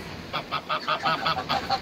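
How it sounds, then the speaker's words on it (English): A goose at a county fair honks in a quick rhythmic run of about eight nasal calls, close and fairly loud over a faint background murmur. "Goose."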